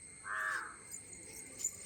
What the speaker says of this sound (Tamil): காக்கா கத்துது